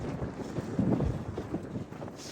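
Wind gusting outdoors and buffeting the microphone on a walk near a railway station, a steady low rumble that swells and eases, with no one speaking.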